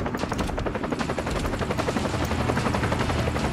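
Rotor chopping from a helicopter in The Escapists 2 prison-escape game, a loud steady pulsing whir running the whole time with no talk over it.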